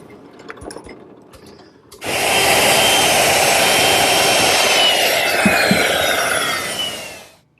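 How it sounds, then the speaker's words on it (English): A power drill bores a through hole in a mahogany handle after a counterbore for a carriage bolt. After a few light taps, the bit whines loudly and steadily for about five seconds before winding down. "Now I'll change bits and drill a through hole."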